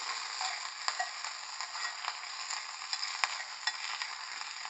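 Okra fries in a pan with coriander as it is stirred, giving a steady close sizzle with scattered clicks and scrapes from the utensil, and no talk.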